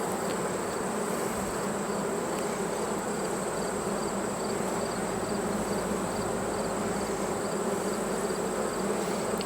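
Honeybees in an opened, storm-damaged hive make a dense, continuous buzzing drone, loud and close, steady from start to finish with no talk.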